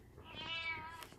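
A pet cat meows once in a drawn-out, rising and falling call indoors, fairly close and clear, with no talking over it.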